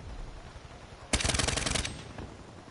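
Rapid automatic burst from the R70 Ajax rifle in Black Ops 3, a loud string of about a dozen evenly spaced shots lasting under a second, set against quieter game background noise.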